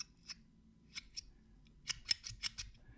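A zirconium hot dog slider fidget toy snaps and slams several times in quick succession, each sharp, bright metallic click ringing briefly, with lighter sliding ticks early on and a faint hum underneath.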